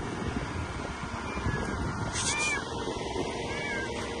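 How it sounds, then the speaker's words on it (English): A cat meows a couple of times, brief and moderately near, over steady wind and outdoor background noise during a driving lesson. "The cat is there."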